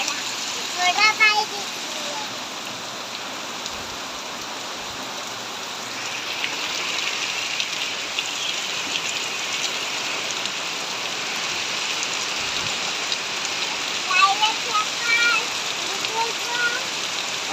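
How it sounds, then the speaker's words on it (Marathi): Heavy rain pours steadily over farmland, a dense continuous hiss that holds for the whole stretch, with scattered louder drips and splashes close by and a few faint sounds from further off. "जोरदार असा पाऊस मित्रांनो आहे."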